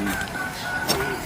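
Hens cluck and call close by on a goat and chicken farm in Velliyampuram near Tirur, a short burst of fowl sounds over steady outdoor background noise with no talk.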